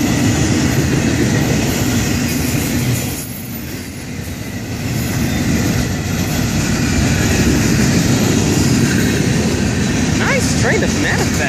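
A Florida East Coast Railway freight train rumbles past close by with steady broadband roar, a brief dip in the middle, and faint wheel squeal near the end.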